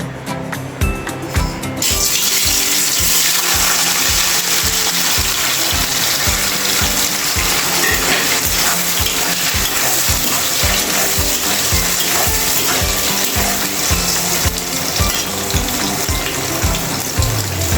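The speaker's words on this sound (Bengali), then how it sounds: "তো আমার তেলটা খুব সুন্দরভাবে গরম হয়ে গেছে। তো এরপর আমি পনিরগুলো ঢেলে দেব।" Paneer hits hot oil in a pan and fries with a loud, continuous sizzling crackle, heard close and steady throughout after a brief burst of clatter at the start.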